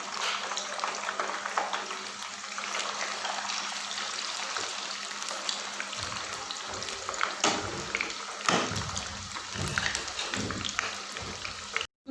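Potato chips for masala French fries frying in hot oil, producing a steady close bubbling sizzle with crackles and a few louder splashy bursts near the end.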